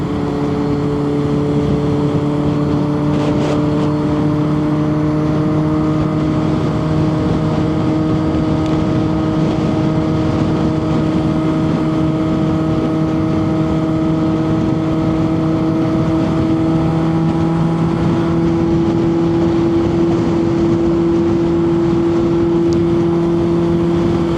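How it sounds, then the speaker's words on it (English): A retro motorcycle's exhaust drones steadily while cruising on a road, a continuous engine hum with constant pitch lines under heavy wind rush, loud and close throughout. "I like the sound of my exhaust"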